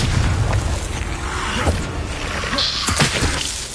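Confringo blasts in Hogwarts Legacy, a dense run of loud booming bursts with rumbling low end and crackling debris, overlapping one another and with a voice calling out spell names.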